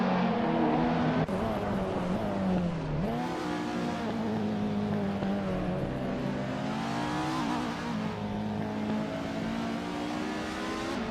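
Race car engines in a video game race, including a 1991 Renault Clio among the field: a continuous loud engine drone that rises and falls in pitch as the cars rev and shift, with no pauses.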